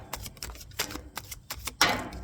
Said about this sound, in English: Let me go ahead and shuffle them once for you at least.